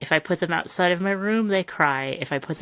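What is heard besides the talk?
None of the usual background noises is heard.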